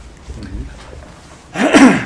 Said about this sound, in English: I'm gonna have to clear my throat a couple times.